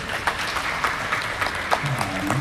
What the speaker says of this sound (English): please give him a round of applause and clap for our books too